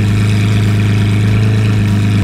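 A Lamborghini Aventador S in Corsa mode with traction control off is held at launch control revs in first gear on a track, a loud steady high-rpm engine drone that stays locked without rising.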